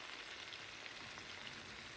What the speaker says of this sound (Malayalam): ഞാൻ മറ്റേ സൈഡ് തിരിച്ചിട്ട് കൊടുത്തിട്ട് നമുക്ക് ഫ്രൈ ചെയ്തെടുക്കാം.